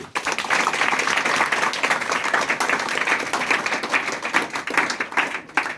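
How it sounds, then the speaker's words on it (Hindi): A crowd at a public talk claps steadily for several seconds, a dense sustained burst of many hands that fades near the end. "तो अरस्तु के लिए ताली बजा दीजिए।"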